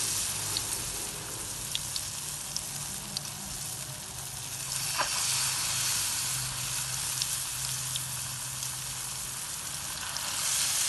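Potato kebabs coated in a gram flour and egg batter fry in hot ghee, giving a steady, close sizzle with faint crackles throughout and no voices.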